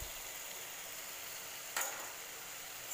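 Masala of ginger-garlic paste, turmeric, chilli powder and coriander powder frying on a low stove flame for potato egg curry, giving a steady soft sizzle with one brief scrape of stirring partway through.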